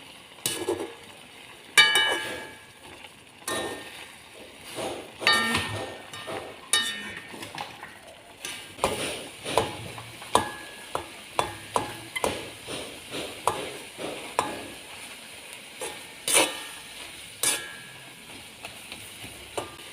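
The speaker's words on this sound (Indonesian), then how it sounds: "Sudah mendidih, kita bolak-balik dulu biar matang merata." Shredded chicken frying in a wok for a spicy sambal dish, stirred and turned with a utensil: steady sizzling under many scraping, clattering strokes that grow quicker and more regular midway, close and fairly quiet.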